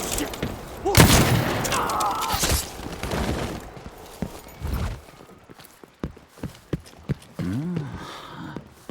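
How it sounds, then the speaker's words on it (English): Loud gunshot in Dishonored 2, a sharp burst with a booming tail near the start, followed by scattered thuds, footsteps and a voice. "Was that a gunshot?"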